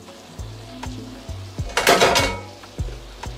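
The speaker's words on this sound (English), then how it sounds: "at this point, I'll be adding the pasta to the sauce" Cooked pasta tossed and mixed into sauce in a pan, with a burst of wet stirring and sizzling in the middle framed by scattered clinks of utensil against cookware, close and moderately loud.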